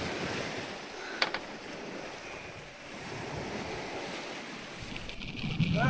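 Lumpy sea surging and wind roaring around a Pegasus 50 sailing yacht reefed with staysail in over 20 knots, a constant rushing wash with wind buffeting the microphone and a louder splash near the end.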